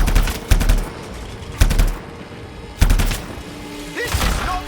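Video game gunfire in Anthem: three loud, sharp bursts of shots about a second apart, each with a booming low end, then a busier stretch of weapon noise near the end.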